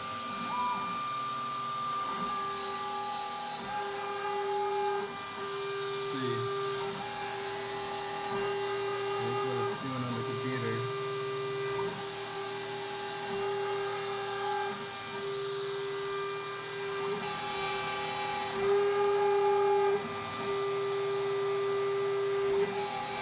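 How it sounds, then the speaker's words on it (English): A MillRight Carve King CNC router runs steadily while drilling a small hole, giving a sustained whine with a motor hum. A few louder bursts mark the cutting. The router is inside an enclosure and sounds close by. "Oh, it's drilling out a little hole now."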